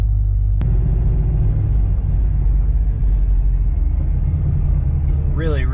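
A supercharged car with a 6R80 transmission and Prothane billet motor and transmission mounts cruises along, giving off a steady, loud low drivetrain rumble with a faint whine, and a voice briefly speaks near the end.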